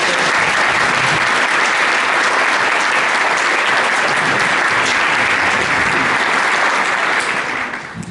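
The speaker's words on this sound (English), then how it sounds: "give them a great big round of applause" Loud, dense round of applause from a conference audience fills the whole stretch evenly, a steady wash of many hands that thins only in the final moment.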